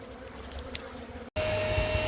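Honeybees swarm during a hive relocation at a brick wall, a steady close buzzing drone that continues throughout, with a brief cut partway through and no talking.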